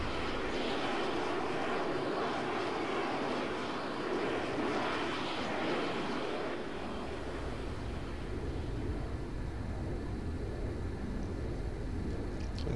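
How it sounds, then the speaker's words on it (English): Jet engine roar of a fighter aircraft in Arma 3 flying at very high speed, a loud continuous wide-band rush and whine that shifts tone midway and holds steady to the end. "Yes, this plane is still flying"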